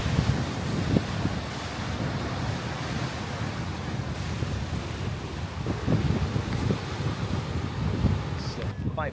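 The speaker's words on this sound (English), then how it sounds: "Quite breezy on the end here." A sea breeze blows at the end of the Paphos harbour walkway, buffeting the microphone in a steady rough rush, with waves washing in the background and a brief voice.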